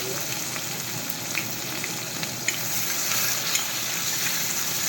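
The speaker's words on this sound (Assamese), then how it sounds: "এই বৰ্তমান মই লোকেল মাছ ভাজি আছোঁ, ৰৌ আৰু মিৰ্গা। গৰম তেলত পূৰা ভাজি লৈছোঁ মাছটো।" Local rohu and mrigal fish fry in hot oil, giving a steady, close crackling sizzle with small pops and no talk over it.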